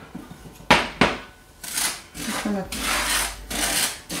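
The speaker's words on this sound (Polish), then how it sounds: "Teraz musimy wsypać cukier na patelnię" Granulated sugar pours and rattles into a metal frying pan in several rasping bursts, preceded by a couple of sharp knocks, as caramelized almonds are prepared.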